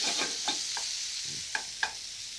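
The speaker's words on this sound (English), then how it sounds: "you can hear that lovely sizzle going on" Steady, close sizzling of tomatoes frying in a pan, with a few soft clinks of a utensil stirring through it.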